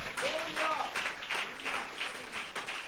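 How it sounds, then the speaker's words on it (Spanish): A church congregation claps in praise, uneven clapping with bursts that rise and fall, blended with voices speaking over it. "Denle un fuerte aplauso a Cristo"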